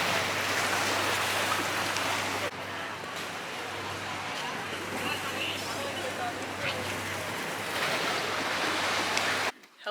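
Ocean waves washing onto a beach near Sorrento, a loud continuous rushing surf with wind buffeting the microphone, an abrupt shift partway through and a sudden cutoff at the end.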